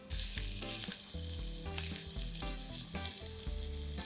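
Chopped onion with a little garlic and ginger hits two teaspoons of hot oil in a pan, giving a steady, close sizzle punctuated by stirring knocks.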